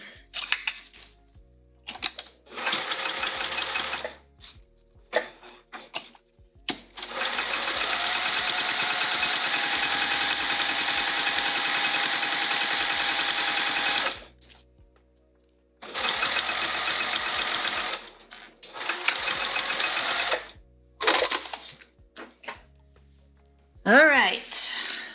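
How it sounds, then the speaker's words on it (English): A sewing machine top-stitches through layers of a vinyl bag in loud, steady runs of rapid stitching, one long stretch and several shorter bursts broken by pauses, with a voice speaking near the end. "we're top stitching these layers"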